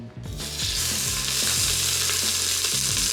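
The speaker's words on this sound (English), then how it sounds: "The Instant Pot has a saute setting, which is what I'm using to brown up the initial ingredients for my lasagna soup." Ground beef browning on an Instant Pot saute setting gives a steady, loud sizzle that swells within the first half second and holds continuously, with a low tonal hum running underneath.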